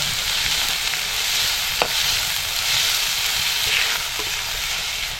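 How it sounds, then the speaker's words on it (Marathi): Onion softening in hot oil with garlic, a dense, even sizzle that carries on steadily from start to end, close and fairly loud, with one brief clink of a spoon and no talking. "आणि नंतर कांदा टाकायचा बघा आणि हा कांदा आपल्याला फक्त नरम करायचा आहे"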